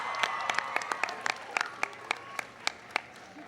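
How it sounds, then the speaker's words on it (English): At an astronomy night at the White House, an audience applauds for astronaut Mae Jemison with sustained crowd clapping and several sharp, distinct claps standing out close by. "Give her a big round of applause."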